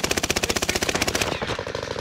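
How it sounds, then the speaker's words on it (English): A Warzone machine gun fires a rapid, evenly spaced burst of roughly twenty loud shots over about two seconds. The burst slows slightly near the end, with no talk over it. "I'm getting shot from the top."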